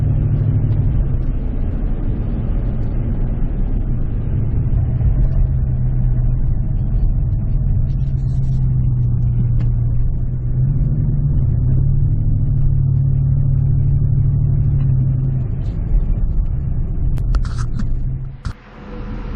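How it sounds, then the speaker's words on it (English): Steady low exhaust drone of a 2010 Ford F-150 SuperCrew with the 5.4L Triton engine, heard from inside the cab while driving; a constant, subdued rumble with slight pitch shifts, ending in a brief clatter. "you can hear how quiet that exhaust note is even in the cab"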